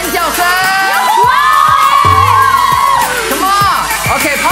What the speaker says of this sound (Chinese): 给我一个尖叫声